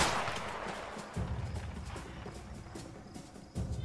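Gunfire in a jail-escape video game, a few thudding shots spaced irregularly over a dull ambient background, moderately loud and close, with no talking.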